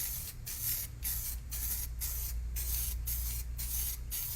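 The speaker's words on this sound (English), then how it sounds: "So now I'm going to lightly spray this." Rhythmic bursts of aerosol lacquer spraying lightly onto glass, about nine short pulses in steady succession, close and fairly loud with a low background hum.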